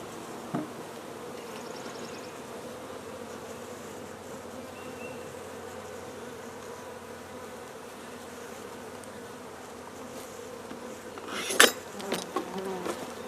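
Honey bees buzz steadily as a package is installed into a hive, a continuous close-up drone of many insects, with a few louder bumps and knocks near the end.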